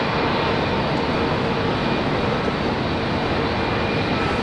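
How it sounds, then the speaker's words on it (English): A Qantas passenger jet arriving at Brisbane International Airport from Sydney, heard as a constant broad engine roar that stays loud and steady without letting up. "This is Qantas 504 coming in from Sydney."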